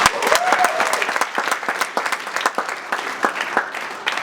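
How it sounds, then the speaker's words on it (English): A crowd at a university startup pitch event gives a sustained round of applause for the student organizers, steady dense clapping with individual sharp claps standing out throughout. "So can we give them all a round of applause?"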